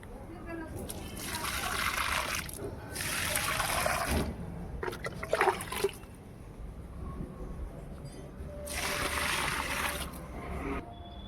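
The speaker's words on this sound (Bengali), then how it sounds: "তো এখন গাছগুলোতে জল দিয়ে দেবো" Water splashes and trickles onto potted chili plants on a sunny rooftop in several separate pours, with gaps between them and quiet background noise throughout.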